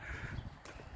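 Crows caw outdoors in a brief, fairly close burst of harsh calls over a low rumble of background noise.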